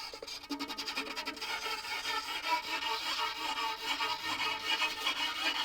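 Continuous scratchy, raspy bowing on a cheap violin, a harsh sawing tone with no clear pitch, sustained and fairly close for several seconds.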